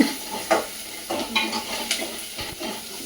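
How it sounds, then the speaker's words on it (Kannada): Onions fry in a pan with a soft sizzle, broken by repeated scraping and clinking strokes of a stirring spoon against the pan every half second or so. "ಈರುಳ್ಳಿ ಸ್ವಲ್ಪ ಬೇಯ್ತಾ ಇದೆ"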